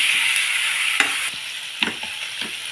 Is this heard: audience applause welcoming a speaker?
no